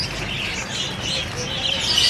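Pet parakeets chirping excitedly at feeding time, a busy overlapping chatter of high tweets and squeaks from several birds, close and continuous.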